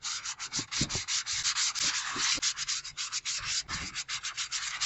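Close, vigorous scrubbing of a dirty baking sheet, rapid rhythmic rasping strokes that rise and fall in quick succession with no talking.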